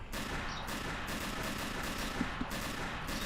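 Gunshots from a shooter video game crack out as a steady run of loud, close bursts, with rapid-fire volleys repeating through the whole stretch and no talking.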